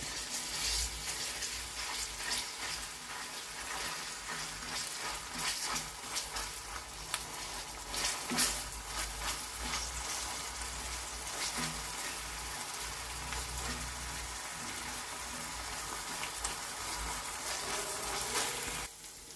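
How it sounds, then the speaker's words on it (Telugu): Ginger-garlic paste sizzles and fries steadily in a pan for a curry of ridge gourd and raw prawns, a continuous close crackle with occasional stirring scrapes and no talking. "అల్లం వెల్లుల్లిపాయ పేస్ట్ కూడా వేస్తున్నామండి. ఇది కొంచెం పచ్చి వాసన పోయిన దాకా వేయించుకున్నాం"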